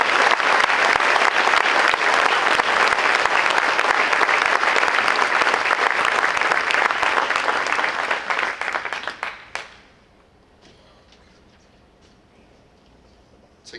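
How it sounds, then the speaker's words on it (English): A large school-event audience applauds a superintendent's State of Our Schools address, dense sustained clapping that fades out and stops, leaving near-silence with faint scattered sounds. "To give our superintendent another round of applause."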